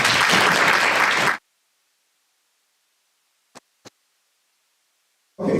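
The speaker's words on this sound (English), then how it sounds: "Can we give them another round of applause?" An audience at a board meeting applauds in a dense burst of clapping that stops abruptly. After a near-silent gap broken by two faint ticks, the clapping starts again.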